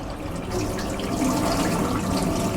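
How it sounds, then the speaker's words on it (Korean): Hot water running from a kitchen sink tap in a hotel suite in Yangon, Myanmar; a steady, close, continuous rushing splash with no talk. "물이 뜨거운 물이 나옵니다"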